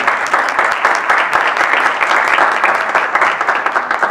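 An audience applauds at a Chilean health-system conference session, with dense, steady clapping from a large crowd filling the whole stretch, loud and close, with no voices standing out.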